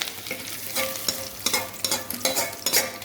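Curry leaves and ginger tempering in hot oil for a traditional varagu millet pongal, a steady crackling fry with repeated stirring scrapes at a close, moderate level; no one speaks.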